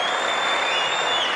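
Crowd applause after a squash rally at the 1991 British Open, a dense continuous burst of clapping filling the short moment with a faint voice underneath.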